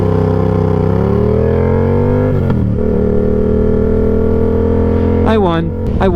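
A motorbike engine revs up hard at a race start. Its pitch climbs over the first couple of seconds, then it holds a loud, steady drone close by, and a brief voice-like burst comes near the end.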